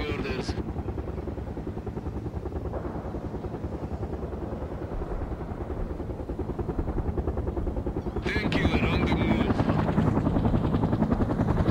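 A Mi-24 helicopter in World in Conflict flies with a heavy, throbbing rotor chop that stays loud and steady, swelling near the end, with brief radio-style unit voices over it.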